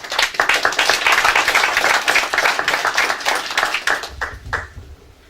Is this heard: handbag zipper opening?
no